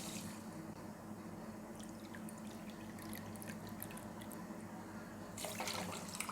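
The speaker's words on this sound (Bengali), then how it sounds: "আর ওর মধ্যে আমি দিয়ে দেব সেই বাটি মেপেই 2 বাটি জল" Water is poured into sugar in a bowl to make syrup, a soft, steady splashing trickle that stays faint and even throughout and swells slightly near the end.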